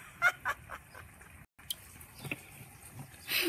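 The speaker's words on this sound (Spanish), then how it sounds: "esos pájaros los estoy atrayendo con comida y les tengo comida" Birds drawn to food in a garden call several times, giving short, sharp fowl-like squawks and clucks at a moderate distance over quiet outdoor background.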